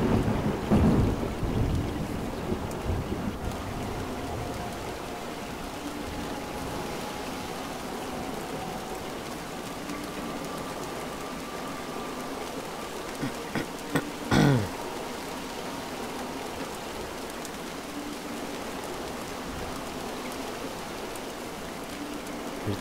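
Rain and thunder in the video game Montague's Mount: a steady rain hiss with rolling thunder rumbles early and a sharp, loud crack near the middle, then continuous rainfall.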